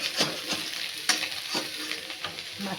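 Pieces of fish fry hard with mustard in a pan: a steady close crackling sizzle broken by repeated scraping stirs every half second or so, fairly quiet, with no talk.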